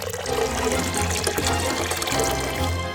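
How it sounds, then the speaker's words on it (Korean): Sparkling water pours steadily into a container for homemade lemonade, a continuous close fizzing splash lasting about three seconds with no talk over it. "이제 어. 탄산수를 여기에 넣어줄게요."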